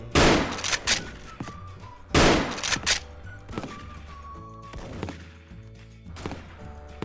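Gunfire in the Special Force shooter game comes as two loud, sharp bursts of rapid shots, followed by quieter single cracks and thuds, with game tones ringing between them.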